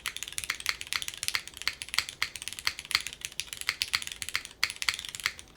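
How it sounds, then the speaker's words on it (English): Fast, clacky keystrokes on a mechanical keyboard, close and crisp, typing in quick uneven bursts with no voices. "I'll type a little bit more here."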